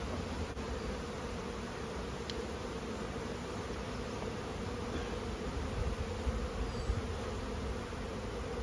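A steady, dense buzz of many honeybees in a hive fills the whole stretch, close and continuous, with a constant droning hum and no talking.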